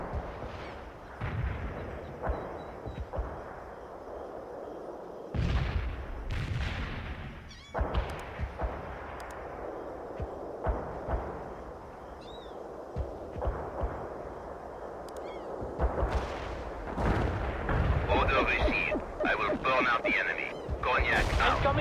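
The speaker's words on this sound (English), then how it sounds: "Fire! The barrage was right on target." Artillery barrage in the video game World in Conflict, a series of heavy booming impacts and blasts spread over time amid battle noise, with game voices speaking between explosions.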